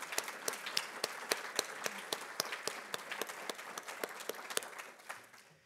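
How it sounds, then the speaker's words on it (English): A small audience at a passenger rail summit session gives a round of applause, distinct claps in a steady rhythm, fairly faint and fading out toward the end. "I'd like to give a round of applause and ask for a round of applause to Greg and Chris Robitaille of Explorer Maps"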